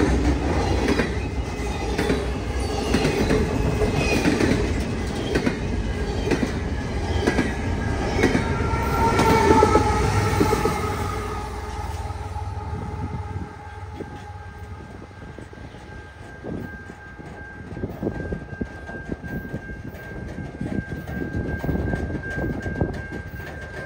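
A CN freight train departs, its cars rumbling and clacking steadily past at close range with some wheel squeal, the noise loud at first and then easing to a lower, more distant roll.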